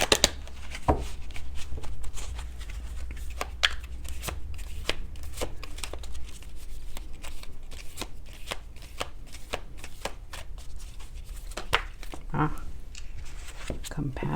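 A deck of Angel Guide tarot cards is shuffled by hand in a steady run of soft riffling card flicks close by, lasting throughout, with a voice talking over parts of it.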